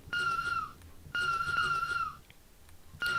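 A steam train whistle in the Train Sim World 2 game sounds two long steady high blasts, each around a second, then begins a third, loud and near with a faint rumble underneath.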